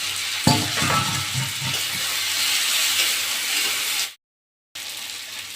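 Crabs dropped into hot oil and frying, a loud, close, hissing sizzle with stirring scrapes that runs steadily, then cuts out briefly before the frying resumes.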